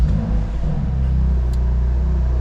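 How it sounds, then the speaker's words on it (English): A BMW M2 Competition with a DCT gearbox fires up, its engine settling into a loud, steady low rumble that fills the whole moment without any talk. "and obviously we'll get it started so you can hear it."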